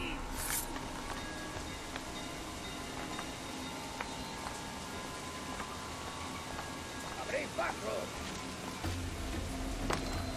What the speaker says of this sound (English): Because of course it would start raining.